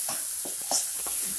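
Eggplant bharta stirred and roasted in a pan with a spatula: a soft sizzle with several quick scraping strokes, close and fairly quiet.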